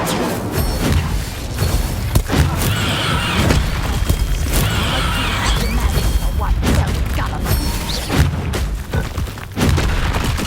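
An Incendio fire spell cast in the video game Hogwarts Legacy, a burst of booming, crackling blasts amid combat clatter, with voices speaking over the noise.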